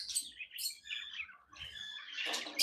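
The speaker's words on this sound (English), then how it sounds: "let you just listen to the natural sounds of the lovebirds in the aviary" Lovebirds in an aviary chirp and tweet in quick overlapping bursts, bright and fairly close, with steady chatter building toward the end and no talking.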